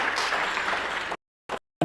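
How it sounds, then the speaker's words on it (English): A crowd at an African brand event in a large hall gives a round of applause, about a second of dense clapping that cuts off abruptly, followed by brief bursts of sound after the silence. "Allow me to encourage everyone to give everyone a round of applause"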